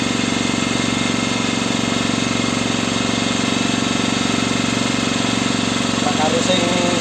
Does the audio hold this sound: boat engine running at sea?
yes